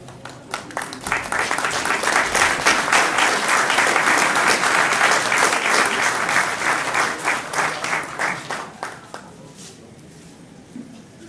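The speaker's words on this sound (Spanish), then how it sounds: "Fuerte el aplauso, muchísimas gracias." A large audience at a regional museum's 30th anniversary ceremony applauds loudly and steadily, sustained dense clapping that gradually thins and fades toward the end, with no talking over it.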